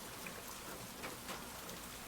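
Rain falls at night in a steady, soft hiss, an even wash of drops on surfaces with no voices.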